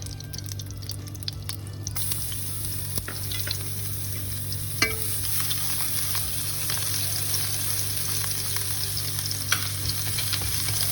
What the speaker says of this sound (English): With the oil, you can hear it sort of sizzling.